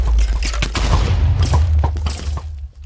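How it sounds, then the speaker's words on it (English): Explosions in the video game Minecraft, a rapid series of loud, close booming blasts with deep rumbling thuds rolling one after another, then fading out at the end. "I'm hearing explosions."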